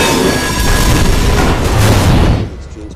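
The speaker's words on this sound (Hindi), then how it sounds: "Goods train just blew up." Goods train carrying a bomb explodes in a loud, heavy rumbling blast that roars for about two seconds, then cuts off abruptly into a fading hiss.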